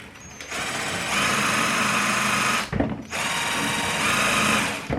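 A power drill whines steadily as it drives a dull self-drilling bolt, pausing briefly before revving again, loud and close.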